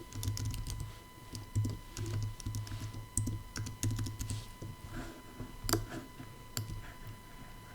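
Fingers type text on a computer keyboard while working with the type tool in Adobe Illustrator, making a rapid, irregular stream of close, crisp key clicks with occasional louder taps and no voices.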